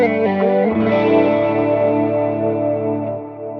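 A clean electric guitar tone with chorus on a Line 6 patch rings through a few shimmering, wavering chords. The notes sustain and slowly fade, and no voices are heard.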